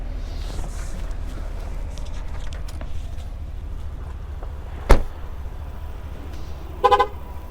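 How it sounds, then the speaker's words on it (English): A 2015 Cadillac Escalade ESV Platinum gives a single short horn chirp, followed a couple of seconds later by a quick burst of rapid beeps, over a quiet idling background. "Vehicle will honk at you if you step out with the key in your pocket and the vehicle is running."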